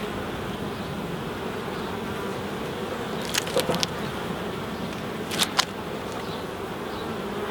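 Honey bees buzz around an open hive during an inspection, a dense, steady hum close by with a couple of brief sharp knocks or clicks from handling the boxes, and no speech.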